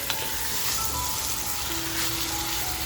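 Dried masala ingredients fry in hot ghee over a full flame, giving a steady, close sizzle that runs throughout with no pauses.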